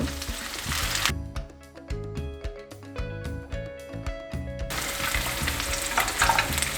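Salmon fillets crackle and sizzle in a hot pan, and the hiss drops off while the pieces are turned over, leaving clinks and scrapes before the loud frying surges back.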